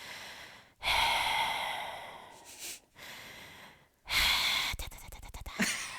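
A person imitates heavy breathing with loud, close exhales and snorting gasps that come in long bursts separated by short pauses.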